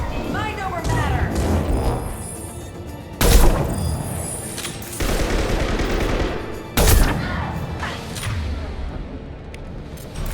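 Mass Effect Legendary Edition gunfire, loud bursts of rapid shots and heavy impacts in repeated waves, with voices speaking between and over the shooting.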